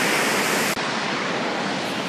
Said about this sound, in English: there's the waterfall. Now look at that.